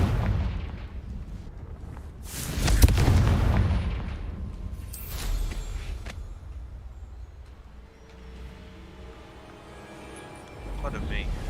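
Fiery Confringo blasting spell explosions in the video game Hogwarts Legacy: a couple of heavy booms with rumbling low-end decay, followed by quieter game ambience and a faint later thud.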